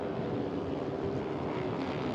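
Wind gusting at an outdoor motorcycle road racing circuit in Indonesia, heard as a constant loud rushing roar buffeting the microphone.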